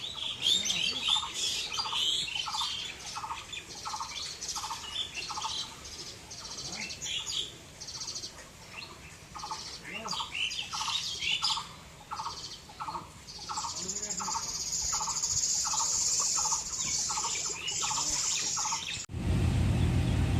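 Chickens perched on a raised rack give short, regularly repeating clucks in long rhythmic runs, moderately close, over faint background noise and a steady hiss later on.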